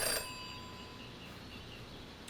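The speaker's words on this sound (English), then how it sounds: "In her short time as a detective, Jenny had learned never to ignore a ringing phone." Telephone in the Jenny LeClue detective video game, a brief bright ring burst at the start that then decays into a faint lingering tone, with no talking.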